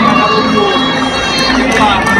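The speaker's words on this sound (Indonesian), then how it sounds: "Berikan aplaus untuk kedua tim ini teman-teman." A large crowd at a boys' provincial youth volleyball grand final in West Java roars and applauds in a dense, steady wash of clapping and cheering, with voices mixed through it.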